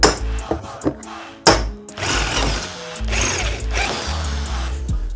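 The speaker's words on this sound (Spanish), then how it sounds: "ya solo queda hacerle un par de agujeros nuevos en la parte de atrás para comunicar este tubo con los tubos del cuadro" Power drill boring a couple of new holes into the rear of a steel bicycle frame tube on a hybrid bike being converted to gravel, heard as close, loud bursts of whirring and grinding with ratcheting clicks between them and no talking.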